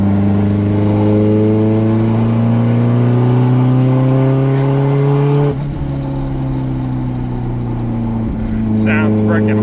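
Turbocharged 1992 Honda Civic EG engine revving close up, a loud rising tone that climbs steadily, then drops sharply and settles before a further burst, with brief talk over it.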